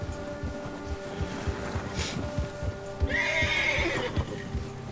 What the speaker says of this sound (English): Oh my god, the bear has spooked your horse.